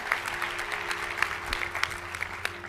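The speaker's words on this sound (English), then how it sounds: "Give her a round of applause as you make your way back." Applause from a hypnotism-show audience at a Long Beach conference, a steady patter of many hands clapping for about three seconds with a low hum underneath and faint voices in the room.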